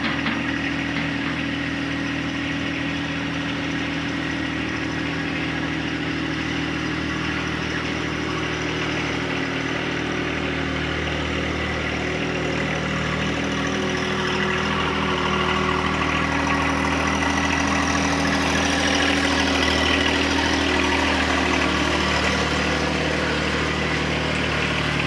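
Tractor fitted with a bucket, idling near an old house: a steady, continuous engine chug close by, growing slightly louder toward the end, with no talk.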